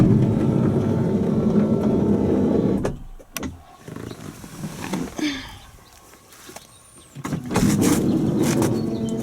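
Ford Freestar minivan's powered rear door opening at the push of a button, a steady motor hum running for a few seconds, dropping away, then returning near the end.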